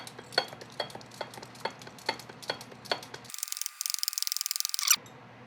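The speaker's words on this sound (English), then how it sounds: "we put our stir in the eggs and the cheese and" Eggs and cheese stirred together in a bowl for a chaffle, a run of regular scraping strokes that quickens into a rapid ratcheting whisk near the end, close and clear with no talking.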